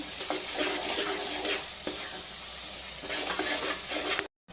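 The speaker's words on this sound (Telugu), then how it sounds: "అల్లం వెల్లిపాయ పేస్ట్ వేసిన తర్వాత ఇలా చక్కగా తిప్పుకోండి" Ginger garlic paste sizzles steadily in a hot pan for egg pulusu while a spoon stirs it, a close, continuous frying hiss broken by occasional soft scrapes, with no talking.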